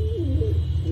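A pigeon gives a low, throaty coo in a rolling, wavering phrase, close and clear over a soft background hum.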